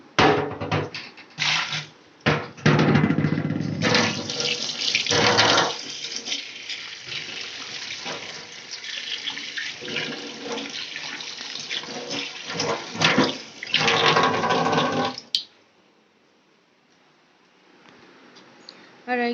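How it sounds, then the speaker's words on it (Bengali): A pot being washed under a running tap for a household flower decoration, water splashing steadily and loudly up close for about fifteen seconds before stopping, leaving near silence. "এবার পোলটাকেও ভালো করে ধুয়ে নেবো"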